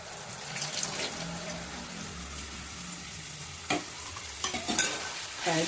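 Food being stirred in a pan over high flame, with a steady hissing sizzle and a few scattered scrapes of a spatula toward the end, close and moderately quiet with no speech.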